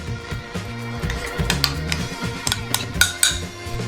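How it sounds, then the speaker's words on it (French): Chicken wings in sauce being shaken between two covered bowls, a close, continuous rattling and clinking of bowls with sharp knocks scattered throughout. "Couvrez avec un autre bol et secouez"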